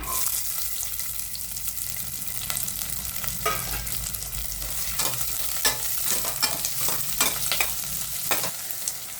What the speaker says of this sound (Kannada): ಶುಂಠಿ, ಬೆಳ್ಳುಳ್ಳಿ, ಹಸಿಮೆಣಸಿನ್ಕಾಯಿ ಮತ್ತು ಇದು ಆನಿಯನ್ನು ಇದಿಷ್ಟು ಹಾಕಿದ್ದೀನಿ. ಇದಿಷ್ಟು ಸ್ವಲ್ಪ ಚೆನ್ನಾಗಿ ಫ್ರೈ ಮಾಡ್ಕೊಳ್ಳೋಣ.